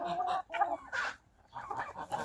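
Turkeys harass chickens, including Mechelen Cuckoo hens, in a farmyard, giving bursts of agitated clucking and squawking with short pauses between them, close by and fairly loud.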